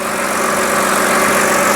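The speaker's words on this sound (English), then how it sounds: "I'm gonna turn off the engine." A BMW car engine idles in a repair shop with a steady, even hum that stays loud and unbroken from start to finish, with no talking.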